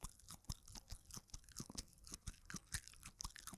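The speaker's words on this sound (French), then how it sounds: "quand tu le mâchouilles, t'as vraiment l'impression de mâchouiller un morceau de plastique" Crunchy, rubbery chewing of a Japanese cheese stick, heard up close and quiet, with a steady rhythm of small bites and squelches and no talking.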